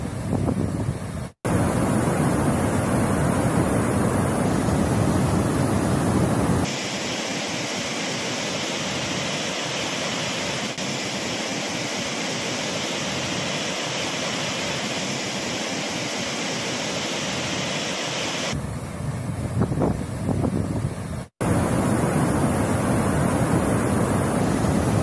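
Heavy flow of the Cauvery river at Hogenakkal falls roars as a steady, dense wash of rushing water, loud and continuous throughout with no voices.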